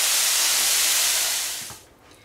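Chicken breast fillets sizzling loudly in a hot pan, a dense steady hiss that fades away near the end as the frying is interrupted.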